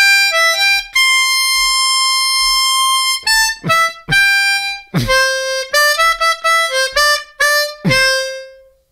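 Harmonica plays the folk tune John Kanaka in a second rhythmic variation, a clear, close solo melody of sustained and short reedy notes, including one long held tone, with no accompaniment.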